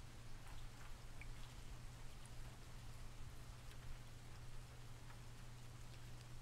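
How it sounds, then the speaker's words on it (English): Steady rain falling outside a window, a soft continuous hiss with faint scattered drops over a low constant hum, fairly quiet throughout. "I can't stand the rain out my window."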